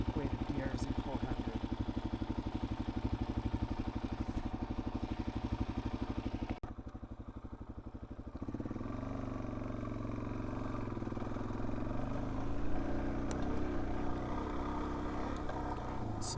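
A DRZ 400S motorcycle engine runs steadily close by, a throbbing idle that drops briefly quieter around the middle before settling into a fuller, rougher run for the rest.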